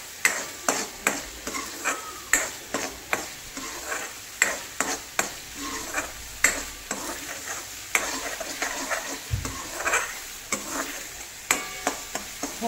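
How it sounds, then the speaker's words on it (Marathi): Paneer bhaji masala frying in oil in a pan, with steady sizzling under rhythmic scraping strokes of a spoon repeated about once a second, close and clear. "ह्याला तेल सुटेपर्यंत ना छान भाजून घ्यायचं."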